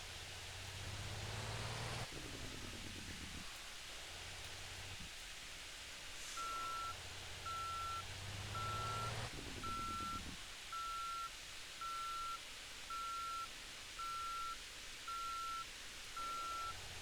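Evenly spaced reversing beeps from a big garbage truck in Motor Town, a steady run of short tones sounding over a broad engine and noise bed.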